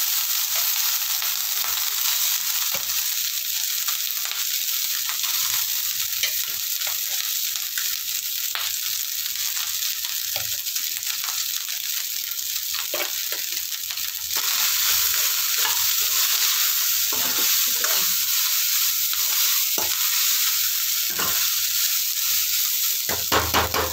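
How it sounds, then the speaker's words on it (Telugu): Pre-cooked rice is tossed and fried in a kadai for jeera rice, giving a continuous close sizzle with repeated scraping and stirring strokes and scattered clatter, with no talk over it. "ముందుగా వండుకున్న అన్నాన్ని బాండీలో వేసుకొని బాగా కలుపుకోవాలి"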